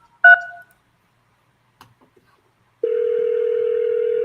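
Telephone keypad press producing one short dual-tone beep while navigating a phone tree, then a quiet pause with faint clicks before a steady continuous tone starts and holds to the end.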